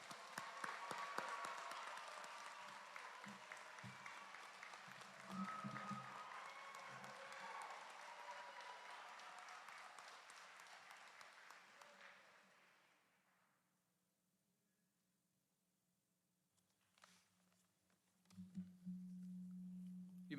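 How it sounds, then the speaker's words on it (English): A commencement audience at Shelton State breaks into sustained applause and cheering for the spring 2021 graduates, a dense roar lasting about twelve seconds before fading to near silence, then a short burst of noise near the end. "Let us now congratulate all these graduates with our cheers and applause"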